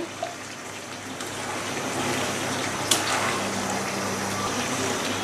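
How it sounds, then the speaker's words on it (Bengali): Water poured into chicken cooking in a pot for rooster pilaf, a steady rushing, splashing wash that holds at an even level throughout, with one small clink near the start. "এখন আমি দিয়ে দিব সামান্য পানি।"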